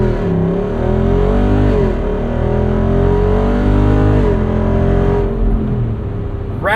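A 2024 Jeep Wrangler 392 Rubicon with its Hemi V8 pulls hard at full throttle, engine note loud and close as it climbs steadily through the revs, with a shift-like dip before rising again.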